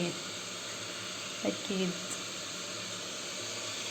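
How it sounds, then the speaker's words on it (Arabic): Chicken pieces frying in oil in a pan, a steady soft sizzling hiss throughout, faint and even, with a brief spoken word partway through. "بس يلا راح نكمل نقلي الدجاج"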